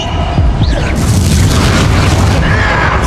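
A Bombarda spell explodes in Hogwarts Legacy, a loud, sustained deep boom with rumbling debris that fills the whole moment and drowns out everything else.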